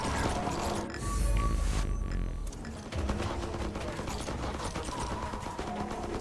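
Rapid bursts of weapon fire from a zombie survival game, FatalZone, with projectiles hitting hordes; dense, continuous volleys of shots fill the whole stretch without pause.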